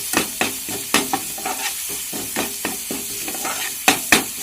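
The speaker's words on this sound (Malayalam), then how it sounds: "അത് കഴിഞ്ഞ് 2 തണ്ട് കരിവേപ്പില ഇടുകയാണ്. ഇത് ചെറുതായിട്ട് നല്ലപോലെ മൂക്കണം." Green chillies and curry leaves frying in a pan give a steady hot sizzle, broken by repeated crisp scraping taps as the pan is stirred.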